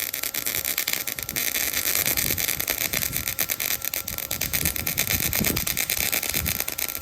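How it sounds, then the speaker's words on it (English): A welder crackling and popping while welding the exhaust on a 1972 El Camino with an LS engine, a loud, dense, continuous stream of rapid sputtering pops up close, with no talking. "I was trying to get it not to pop like that, but I'm not too sure really how to fix that on the welder."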